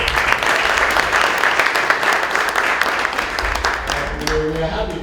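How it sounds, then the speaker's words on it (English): An audience at a book launch gives steady applause, a dense continuous patter of many hands that fills the room and fades as a voice starts talking near the end. "Can we give him a round of applause again?"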